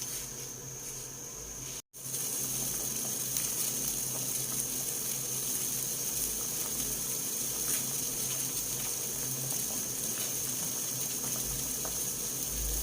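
Water heats in a pot with ginger, onion and tomato for sinigang, giving a steady close bubbling and hissing boil that runs on alone after a brief cut near the start.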